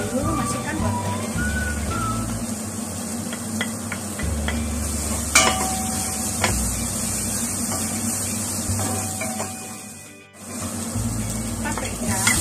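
Onion and carrots sautéing in a pan for steamed macaroni schotel, a moderate sizzle with clinks and scraping stirs, brief tonal whistles early on and a short dip near the end.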